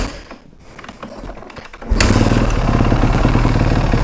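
A motorcycle engine starts with the choke on: after a quiet moment the engine catches abruptly and settles into a loud, steady, close idle.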